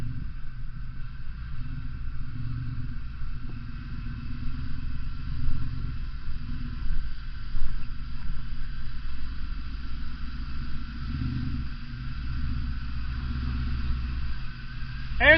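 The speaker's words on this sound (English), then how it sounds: "he's testing out his new tune to see how well the engine runs." An off-road vehicle's engine running steadily after a new tune, a low idling rumble with mild rises in revs on a rocky trail, voices talking over it.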